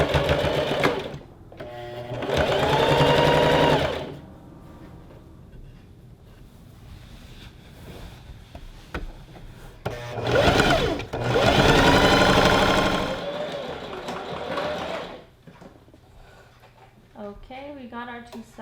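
A sewing machine stitches the sides of a gathered skirt with pockets together in two loud bursts of rapid needle chatter, separated by quieter pauses with low background noise.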